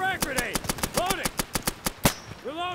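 Rapid bursts of gunfire from the tactical shooter game Insurgency, a dozen sharp shots in quick uneven succession, loud and close, with a louder blast near the end and brief voices underneath.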